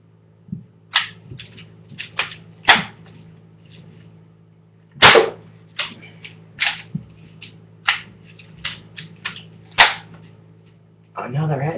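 Shotgun blasts in a first-person video game, fired at close range for headshots: a dozen or so sharp, loud bangs come at irregular intervals, each with a short ringing tail over a low steady background hum.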